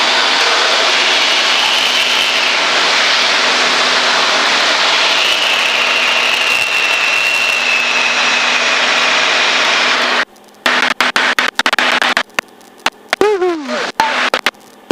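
Aircraft engine of a Red Bull Extra 200 aerobatic plane during a high-speed turn, a loud sustained roar heard from inside the cockpit that cuts off abruptly into crackly intercom-like bursts.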